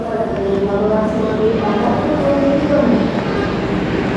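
Low rumble of the Gunungjati passenger train idling at platform 3 of a station in Semarang, Indonesia, with steady mechanical hum and faint murmuring voices in the background.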